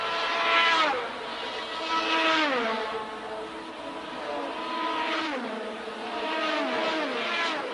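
Formula 1 cars at the 1984 Brazilian Grand Prix scream past one after another, high engine whines rising and falling with gear changes and Doppler sweeps, fairly close, with no talk over them.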